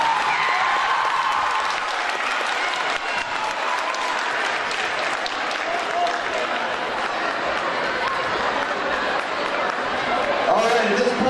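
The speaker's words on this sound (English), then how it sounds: "let's give one more round of applause" Applause from an eighth-grade class during a US history tournament: steady, dense clapping from many hands fills the room throughout, with faint voices mixed underneath.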